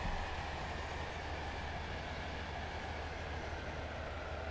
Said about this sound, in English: This train is now approaching Onto St Helens Bridge.